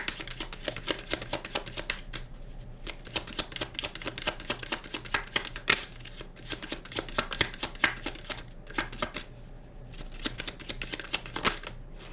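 Tarot cards are shuffled close up in dense, rapid riffling bursts that run almost continuously, with brief pauses between passes and no talk.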